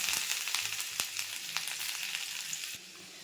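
Chopped ginger and dried chilli fry in hot oil with black cumin, a soft, steady sizzle with a few light ticks and pops, close by and quiet, with no talking.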